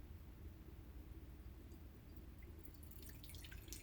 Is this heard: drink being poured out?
yes